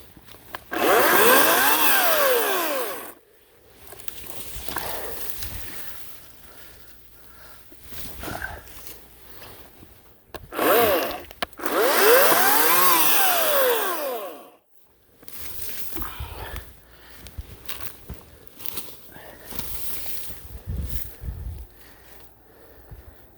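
A Ryobi 18-inch electric chainsaw cuts into a birch tree outdoors in two loud bursts of whining motor and rising pitch as it bites, separated by quieter stretches of handling noise and breathing.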